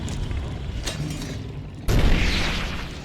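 A flashbang going off in Fallout New Vegas, a sudden loud boom cutting in abruptly partway through and decaying into a rumble over steady game background noise.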